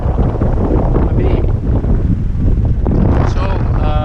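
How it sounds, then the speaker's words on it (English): Strong wind roaring across the microphone on a sailboat at sea during a single-handed ocean passage toward the Azores, a loud continuous buffeting rush with faint creaks near the end. "the apparent wind is about 20 knots, just about a beam"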